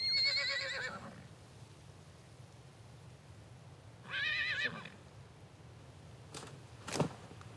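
A horse neighs and whinnies as a handful of its tail hair is yanked out for a morin khuur fiddle. Two distinct whinnies stand out against a faint outdoor background, followed by a couple of short thumps near the end.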